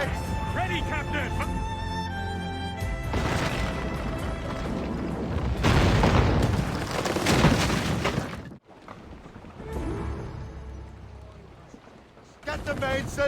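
Heavy booms of a sailing warship's cannons firing in Assassin's Creed Rogue, rolling out in broadside volleys over wind and water, with shouted crew orders in between.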